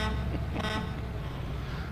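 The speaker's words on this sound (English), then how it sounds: "And they beep the horns to tell you you're in the way." Vehicle horns from the emergency-services video game Emergency Call 112 sound as a steady, loud, buzzy honk over a low engine rumble, with a brief brighter blast midway.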